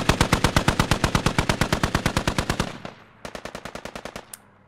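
Rapid automatic gunfire in a Squad Ops video game, a long even burst of sharp close shots, a brief pause, then a shorter burst ending in a single crack.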